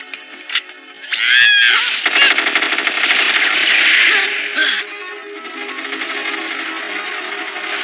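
A rapid burst of automatic gunfire in an animated series, loud and close, rattling for several seconds before cutting off and leaving a lower mechanical hum.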